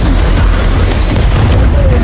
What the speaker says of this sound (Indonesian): Tak lama tubuh New meledak karena overdosis.